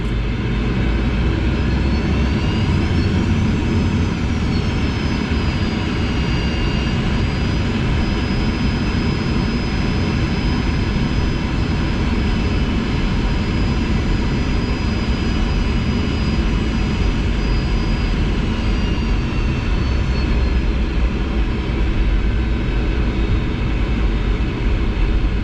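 Engines of an Air Inuit Boeing 737-200 built in 1978 drone steadily and loudly, with a thin whine rising and holding above the constant roar throughout.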